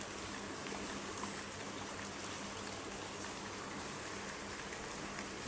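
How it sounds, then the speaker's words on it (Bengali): Light drizzling rain falls steadily, giving a soft even hiss that stays unchanged from start to finish, with no voices. "গুড়ি গুড়ি বৃষ্টি। একটু আগে বৃষ্টি আরো জোরে জোরে হইতেছিল।"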